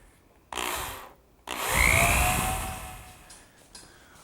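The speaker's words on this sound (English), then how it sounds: "And now just a couple screws on this end to secure it." Power drill driving screws into the wood of a hearthside settle during construction, two short bursts of close whirring, the second longer and rising in pitch before fading, with no talk.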